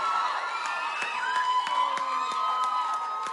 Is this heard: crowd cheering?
yes